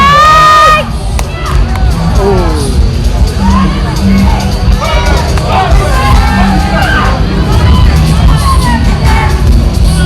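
A loud, packed crowd at a Britain's Strongest Woman competition cheers, whoops and yells continuously around a strongwoman's lift, with shouting voices and babble on top of the constant roar.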